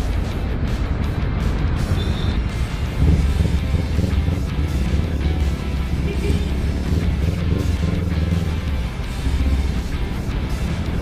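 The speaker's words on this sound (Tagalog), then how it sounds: "Traffic nga talaga." City traffic noise heard from a Kawasaki Z400 motorcycle riding through congested Makati streets, a steady broad engine and road roar with wind buffeting, continuous and fairly loud throughout.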